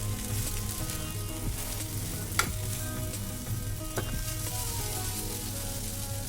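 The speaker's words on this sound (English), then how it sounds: "Give a final mix." Okra and diagonally cut spring onions stir frying in a hot pan for a final mix, with a steady close sizzle and a few sharp clinks of a utensil against the pan.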